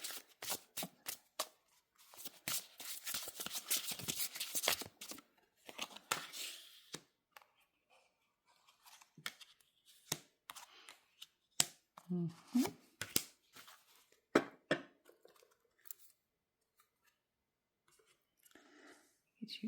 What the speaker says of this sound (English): Let's go ahead and give you some live shuffling for some pile picking.